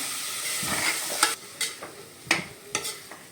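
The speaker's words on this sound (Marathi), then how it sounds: "दोन मिनटं आपण हे मसाल्यामध्येच परतून घेणार आहे" Peas and potato sauté in a spice masala in a pan as a spoon stirs them in several distinct scraping strokes over a soft sizzle, close and clear with no talk.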